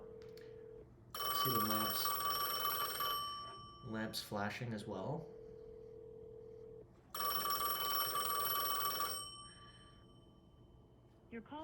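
Vintage business telephones ring together in two long, loud bursts of bright electric bell tone, separated by a pause where someone talks over a low hum.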